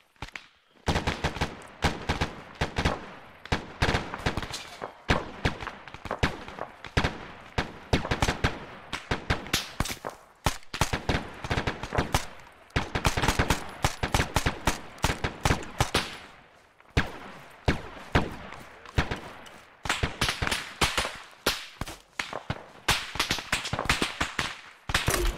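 Dense, sustained gunfire from a military video game: rapid automatic bursts and single shots crackle almost nonstop, loud and close, with only brief pauses between volleys.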